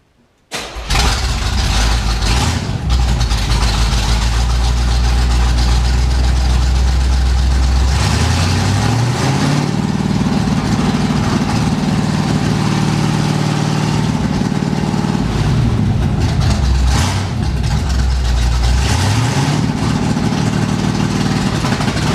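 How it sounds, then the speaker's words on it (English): A stepside truck engine running on a Mallory 695 two-step ignition box, loud and close, holding a steady limited rev before pulling away with rising engine pitch as the clutch is let out, then settling and climbing again. "it's still on the two-step as I'm letting out on the clutch"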